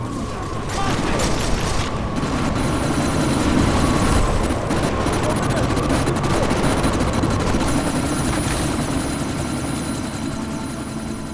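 Helicopter in the video game Deus Ex: Mankind Divided, a loud, steady rotor thrum and turbine whine that runs throughout amid a sandstorm, with scattered mechanical bangs and possible gunfire mixed in.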